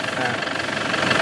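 Diesel engine of a Toyota Hilux Tiger D4D running with a leaking injector seal, a steady close rumble with a rough knocking clatter throughout, with no voices.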